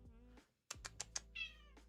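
A pet cat gives several short, close meows in quick succession after a brief hush, quiet in level, with no talking.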